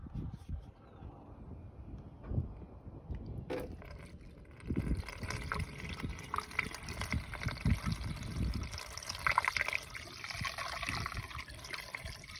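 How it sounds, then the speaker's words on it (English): Coolant and tap water being poured into a Jeep Grand Cherokee cooling system, a faint, continuous liquid trickle and gurgle that grows busier in the second half, close by and with no talk. "We're gonna pour the coolant in here, tap water in here"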